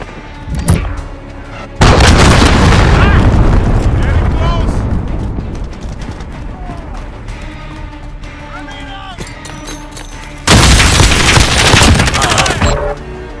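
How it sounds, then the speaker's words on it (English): Loud cruise missile explosions in a Call of Duty: Modern Warfare match, two big booming blasts with a long rumbling tail between them, amid gunfire and battle chatter. "Allied cruise missile away."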